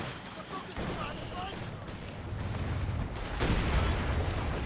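A mine explodes in Company of Heroes 2: a deep, rumbling blast that swells toward the end amid ongoing battlefield booms and artillery, with a commentator talking over it.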